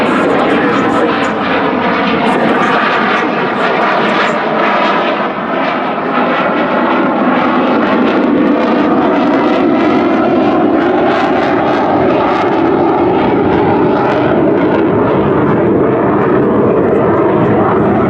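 A Saab Gripen fighter jet with its RM12 engine flies at the ILA Berlin air show at Schönefeld, a loud, sustained roar that holds steady for the whole stretch, with a voice faintly present beneath it.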